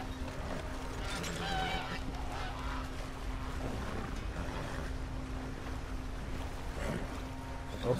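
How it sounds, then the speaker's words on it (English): Geese honk in the video game Red Dead Redemption 2: scattered honks and calls over a steady water and ambient bed, moderately distant, with a low constant hum throughout. "Some type of goose."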